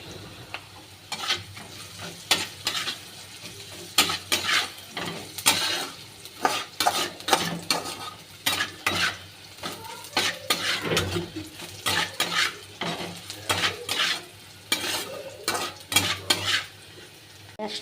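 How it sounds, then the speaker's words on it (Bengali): Onion frying in a pan with a soft continuous sizzle, punctuated by frequent sharp scrapes and clinks of a spoon stirring against the metal, in irregular bursts throughout. "পেঁয়াজটা ভাজা হয়ে গেছে আমার।"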